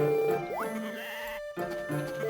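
Sheep in a farming video game bleat loudly and close, a couple of wavering calls over a steady background of game music.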